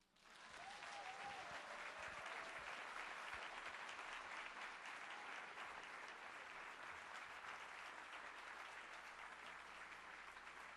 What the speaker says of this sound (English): Let's have another round of applause for our spoken word artists.